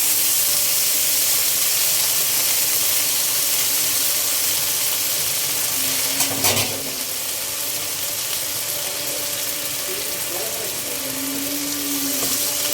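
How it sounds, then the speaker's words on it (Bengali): Garlic, onion, green chilli and long beans frying together in a pan, giving a loud, continuous hissing sizzle throughout with a brief clunk of stirring near the middle. "এখন রসুন, পেঁয়াজ, কাঁচামরিচ, বরবটি একসাথে দিয়ে দিলাম। এটা ভেজে নিব ভালোভাবে।"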